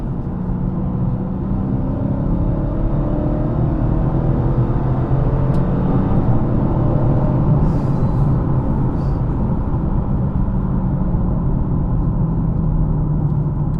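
A 2023 Dodge Challenger T/A 392 runs through its gears, its V8 engine giving a steady, loud broadband rumble from inside the cabin that holds constant with no talk.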